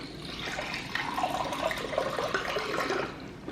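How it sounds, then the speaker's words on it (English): Water running from a tap into a container in an apartment, a steady rushing, splashing stream lasting a few seconds, close and moderately loud with no talking. "Getting some water."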